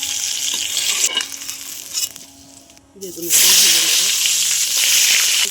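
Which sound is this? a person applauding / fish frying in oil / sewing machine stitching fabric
fish frying in oil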